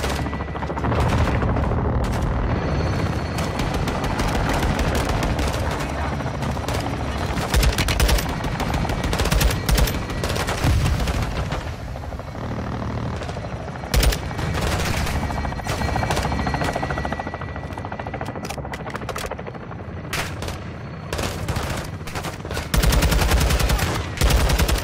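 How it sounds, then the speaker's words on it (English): Sustained heavy gunfire from an air-support gun run in Call of Duty Modern Warfare 2 (2022), dense bursts and booms under a constant helicopter rotor drone, loud and continuous throughout. "Weapons hot for gun run."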